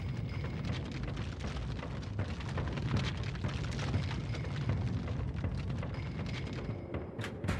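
A dramatized explosion of the repaired rear pressure bulkhead on a Japan Airlines Boeing 747 climbing out of Haneda Airport, Tokyo: a sustained, loud, dense roaring blast with crackling bursts throughout, fading briefly near the end.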